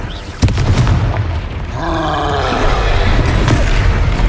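Spell blasts from the Confringo explosion spell in the Hogwarts Legacy video game, a sharp boom followed by a loud, sustained rumbling with tonal magical whooshes, dense and close amid battle noise.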